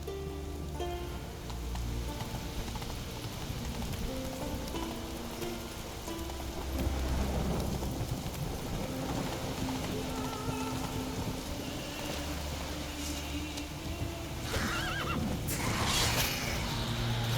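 In The Witcher 3, a horse gallops over a rain-soaked landscape with a constant patter of rain, and loud neighs and whinnies come near the end.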